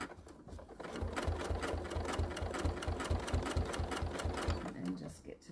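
A sewing machine couches thread down in a steady, rapid run of stitches, loud and close, starting after a brief quiet lead-in and running evenly before slowing at the end, with no talk over it.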